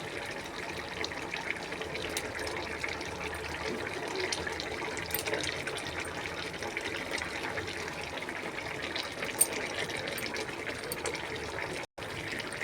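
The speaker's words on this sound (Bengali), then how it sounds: "এবারে এতে আমি 1 বাটি জল দিয়ে দেবো" Water from a bowl poured into a cooking pot, a soft steady splashing and trickling heard close by but quietly for several seconds, with a brief dropout near the end.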